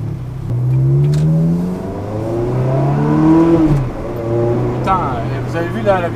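A Ferrari 360 with a Challenge Stradale F1 gearbox remap accelerates hard past the listener, engine note climbing through quick, near-instant gear changes before fading, with someone talking excitedly over it.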